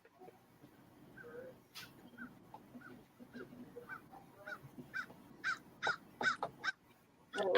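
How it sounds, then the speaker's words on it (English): A crow caws repeatedly in the background, faint at first and then louder and more insistent in a series of sharp calls toward the end, with no talking over it. "Yeah, it was a crow."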